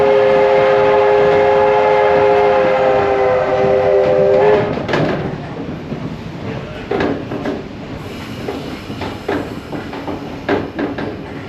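Inside a running Hitachi train, a steady tonal whine from the traction drive fades after a few seconds into rumbling rail noise with irregular clicks and knocks, continuous and fairly loud, with no talk.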